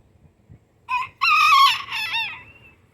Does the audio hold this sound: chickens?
yes